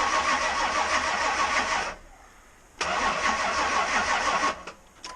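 A supercharged small-block Chevy engine cranks over on its first start, a loud steady churning run that stops for about a second, then resumes cranking and cuts off near the end.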